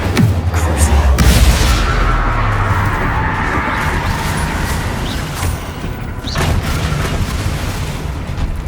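An Incendio fire spell is cast in Hogwarts Legacy, setting off a booming, explosive burst of flame that crashes loudly up front and then roars on as a sustained, rumbling blaze.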